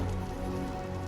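Rain falls as a dense, even hiss of drops hitting surfaces, quiet and constant throughout with no voices.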